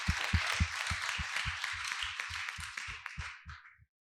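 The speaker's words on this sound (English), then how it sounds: "So everyone clap each other." An audience at a longevity biotechnology investment event breaks into applause, a dense, steady clapping that carries on for several seconds, then thins out and stops cleanly.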